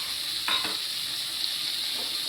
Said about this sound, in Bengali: আমি এই পোস্তটা ঢেলে দিচ্ছি, নারকেল আর পোস্তটা